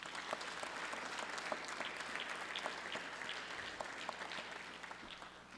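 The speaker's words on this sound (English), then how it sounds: "So if we can give the parents a big round of applause." Audience in the House Chamber gallery of a legislative session applauds parents of Mililani High School students, a steady, moderately distant wash of clapping that holds for several seconds.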